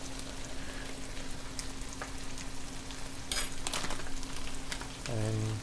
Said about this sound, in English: And give it a quick mix.